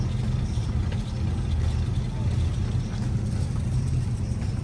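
A Studebaker car engine runs with a steady low rumble, loud and continuous throughout, against outdoor background noise at a car meet.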